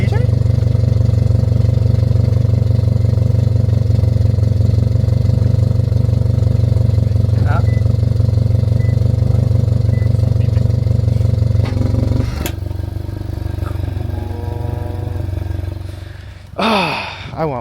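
A 2022 Subaru WRX VB with a valved exhaust idles with a deep, steady rumble, then revs briefly before settling. Close and loud, with people talking nearby.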